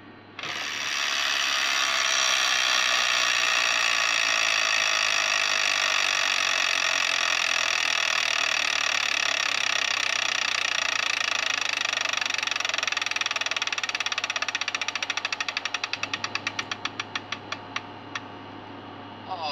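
An electronic Wheel of Fortune tabletop game wheel spins with a steady mechanical clicking whir that holds loud and even, then slows into distinct, spaced ratcheting ticks as it comes to a stop.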